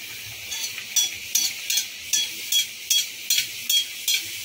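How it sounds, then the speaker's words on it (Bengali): Mini samosas fry in hot refined oil in a wok over low flame, a thin bubbling sizzle that pulses in regular bursts about twice a second, close and fairly quiet. "তেল গরম হয়ে গেছে, গ্যাসটাকে আমি লোতে রাখলাম, একটা করে ছাড়বো এবার।"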